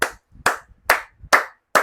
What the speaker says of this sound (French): D'applaudir encore